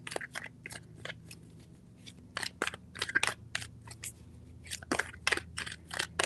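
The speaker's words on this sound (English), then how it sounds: "3 shuffles." A tarot deck is shuffled by hand, quiet crisp papery bursts in quick clusters, close and alone with no voices.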